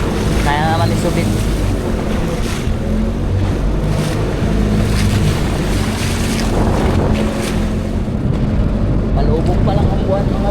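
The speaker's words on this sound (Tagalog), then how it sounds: "Tapos ihip na naman ang hangin." Steady wind roars over open sea beside a fishing boat, a continuous loud broadband rush with water wash and engine rumble underneath, and a voice speaks briefly at times.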